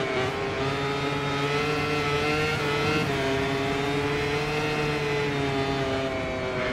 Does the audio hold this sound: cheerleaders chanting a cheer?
no